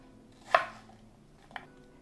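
Knife dicing apple on a cutting board into small pieces: one sharp chop, then a fainter second cut about a second later, close and otherwise quiet.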